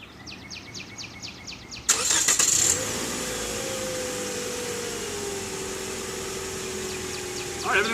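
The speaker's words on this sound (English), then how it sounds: "Car started up okay." Toyota Corolla engine cranks and catches via remote start, a brief loud starter burst after a few quiet clicks, then settling into a smooth steady idle nearby.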